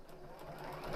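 A sewing machine runs steadily, stitching the last pinned row of a half-square-triangle baby quilt with a fast, even whir, close and moderately quiet.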